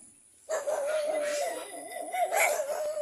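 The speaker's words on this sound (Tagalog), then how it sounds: "Galit na mga aso." Dogs bark in a loud, agitated chorus in rural Bicol, Philippines, overlapping yelps and barks continuing steadily after a sudden start, fairly close.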